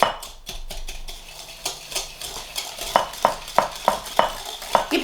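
Tart dough mixture with white sugar is beaten in a bowl, producing a rapid, regular run of close clicking strokes of a whisk or spoon against the bowl, with no voices.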